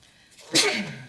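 A single sharp, close sneeze bursts out over quiet room noise during a board meeting, then trails off briefly.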